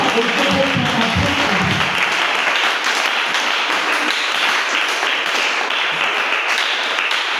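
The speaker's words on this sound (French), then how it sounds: "Alors tout acclame." A church congregation breaks into loud, sustained applause and cheering, a dense wash of clapping that continues steadily throughout, with a few voices mixed in at the start.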